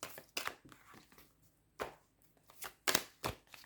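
A tarot deck is cut and handled on a table, with sharp papery snaps, riffles and soft slaps arriving in irregular bursts with quiet gaps between, close and fairly faint.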